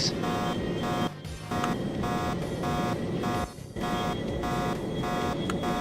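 Repeating electronic alarm in the flight game Three-D Velocity, a steady loud pulsing buzz tone that keeps sounding with brief gaps, alone without talk.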